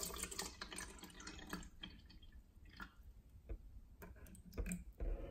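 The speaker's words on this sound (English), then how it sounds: "Let's pour some water in." Water is poured into a small pH test cup during a bottled water test, heard as a faint, close trickle with light drips and small taps, no talk.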